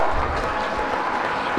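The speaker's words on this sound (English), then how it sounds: "I request one and all to applaud loudly for this award winners, both students and teachers" A school audience at a Kendriya Vidyalaya annual day applauds award winners, both students and teachers, with dense, steady clapping that holds at an even loudness the whole time.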